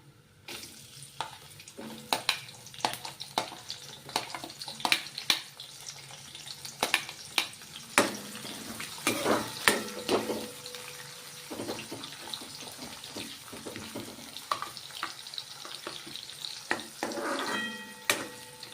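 Onion frying and sizzling in hot oil, a steady crackling hiss with repeated sharp clatters and scraping as it is stirred in the pan, close and moderately loud throughout.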